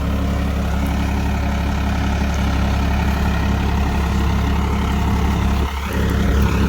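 A Farmtrac 45 Powermaxx tractor engine runs steadily, a loud, close, continuous diesel rumble with a constant low throb and no pauses.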